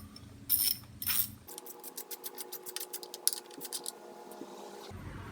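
A wrench ratchets at the clutch bolts of a Super8 150 scooter, a fast run of close metallic clicks after a few clanks of handling, ending with a short thud.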